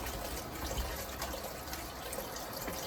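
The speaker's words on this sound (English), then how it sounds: "Now I'm going to run some cold water and also put a splash of vinegar over them" Cold tap water running steadily into a bowl of grapes, a continuous close splashing and trickling stream at moderate level with no speech.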